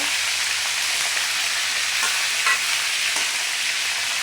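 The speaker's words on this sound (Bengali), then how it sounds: "তো মাংসটাকে খুব সুন্দরভাবে ভেজে নিব।" Meat frying in a pan until it browns red, a steady broadband sizzle with occasional stirring scrapes, close and continuous with no voices.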